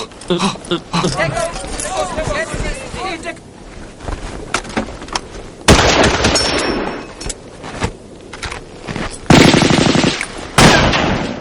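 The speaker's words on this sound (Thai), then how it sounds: "มันกำลังยิงกันเองอะ" Bursts of machine gun fire and scattered gunshots crack out in a battle between soldiers, loud and close, with shouting voices mixed among the volleys.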